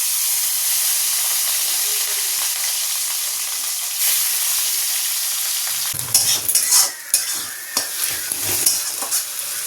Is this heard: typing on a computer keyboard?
no